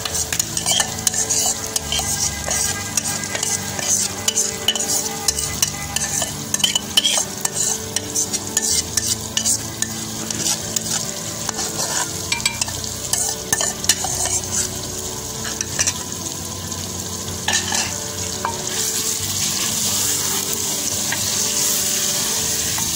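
Marinated chicken sizzles loudly in a pan with softened tomatoes for tikka biryani, stirred steadily with a utensil that scrapes and clinks against the pot throughout, with the frying hiss growing stronger near the end.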